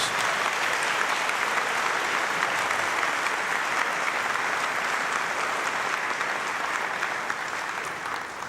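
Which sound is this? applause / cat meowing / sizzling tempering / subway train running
applause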